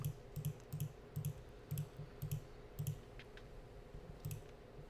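Soft, faint computer mouse clicks repeat in a steady rhythm, about ten light taps in quick succession over a quiet room background.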